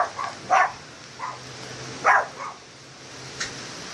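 A dog barks several times at a distance during a heavy Denver rainstorm, its short yips rising above a constant wash of rain noise.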